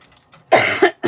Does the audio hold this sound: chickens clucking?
no